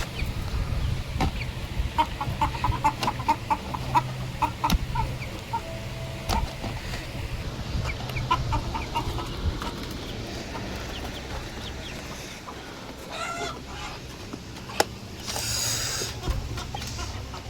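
Hens cluck and chatter repeatedly at close range, a busy overlapping flock with short calls scattered throughout and no talking.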